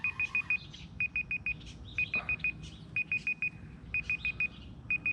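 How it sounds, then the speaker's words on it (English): An electronic alarm sounds outdoors while fishing, sending out bursts of four rapid high beeps in a steady repeating pattern over a constant low background rumble. "The alarm started going off."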